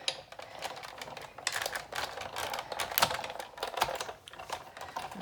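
A Big Shot die-cutting machine rolls white paper and a detailed band die through its plates, giving a quiet, irregular run of clicking and rattling ratchet sounds close by with no voice.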